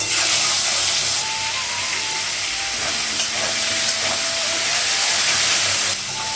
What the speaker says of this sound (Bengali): মাছের মাথাগুলো ভাজবো।